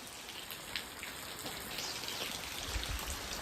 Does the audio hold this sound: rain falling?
yes